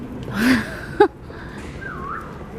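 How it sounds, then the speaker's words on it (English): A brief, faint whistle or two rises and falls over quiet background noise, with a short sharp click in the middle. "just give me a little whistle"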